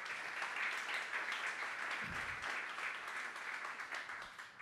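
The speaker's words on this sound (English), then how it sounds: "so big applause to the hardware and tech team." A room of colleagues at a company weekly breakfast meeting applauds, a soft, steady wash of many hands clapping at a distance for several seconds.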